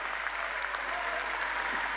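Audience applause at a 2008 general assembly of union delegates, a dense steady wash of clapping held at an even level for the full two seconds with no voices standing out.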